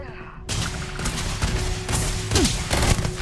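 Bursts of rapid gunfire crack and thump in a firefight in the video game Starfield, loud and close, with several overlapping volleys and brief gaps between them.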